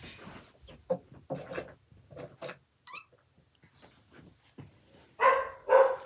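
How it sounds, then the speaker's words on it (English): Several dogs barking indoors in bursts, a few short sharp barks followed by two louder close barks, with no one speaking over them. "Sorry guys, that's my dogs."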